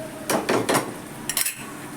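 A spoon scrapes and clinks against a pan while mango thokku is stirred in sesame oil, a few quick strokes in two short bursts, close and moderately loud with no talking.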